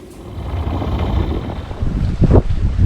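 A sailboat runs before a breeze off the Outer Hebrides, with wind gusting and buffeting the microphone over a low rushing of water and a few brief knocks near the end.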